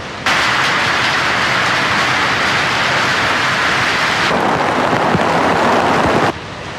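Heavy rain pouring down outdoors, a dense, loud, continuous hiss that starts abruptly and shifts in intensity midway before cutting out near the end.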